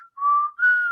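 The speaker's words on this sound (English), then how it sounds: "push through the Fly Eagles Fly whistle, which, by the way, impressive whistling" A single person whistles the Fly Eagles Fly tune, a clear, close, melodic whistle with two sustained phrases and a short break between them, heard alone.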